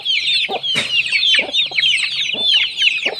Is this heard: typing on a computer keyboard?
no